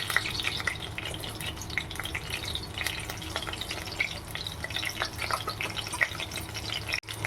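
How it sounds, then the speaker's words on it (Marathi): Cumin seeds sizzle in hot oil in a wok with a soft, continuous crackle and light popping, fairly quiet and close, heard alone. "आता मी कढईत तेल टाकलेलं आहे आता आपण त्यामध्ये जिरं टाकणार आहोत"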